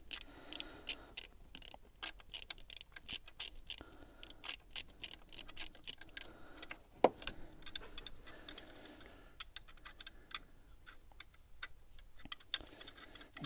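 Ratchet wrench with an 8 mm socket backing out bolts on the thermostat housing of a Citroen DS4 Sport 2.0 HDi, a quick run of sharp clicking bursts followed by a single loud clank and softer, sparser clicks, close up with no talk.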